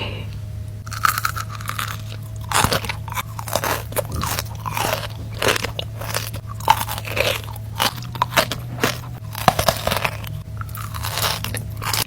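Loud, close crunching and chewing of crunchy Dubai-style pistachio chocolate, steady crackly bites repeating over a low constant hum.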